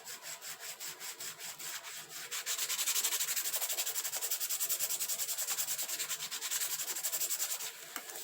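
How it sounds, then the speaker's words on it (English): Rapid back-and-forth rubbing to burnish a planner cover flap flat, a dry scratchy swishing in quick, even strokes that grows a little louder midway and continues without speech. "burnish it down"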